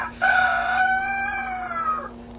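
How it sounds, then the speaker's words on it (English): A rooster crows once indoors in a tomato greenhouse, a long, loud cock-a-doodle-doo with clear rising and falling tones, close by over a steady low hum. "Why is that cockerel in here?"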